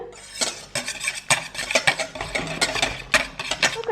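A spoon or whisk stirring pancake batter made with beaten eggs and four spoonfuls of vegetable oil in a bowl: quick, irregular clinks and scrapes against the bowl, close and fairly loud, with no talking.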